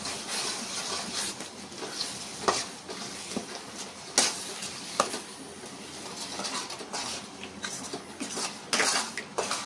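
A spoon stirs tomato pickle in oil inside a pot, giving repeated metallic scrapes and clinks against the pot at an uneven rhythm, close and clear, with soft sizzling underneath.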